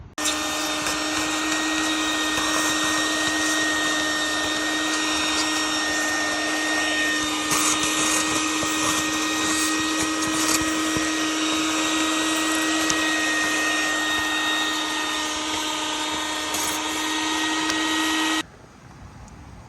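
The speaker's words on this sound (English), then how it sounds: "I'll use that to vacuum everything out." A small vacuum cleaner runs steadily with a high, whining motor tone for about eighteen seconds, then cuts off abruptly.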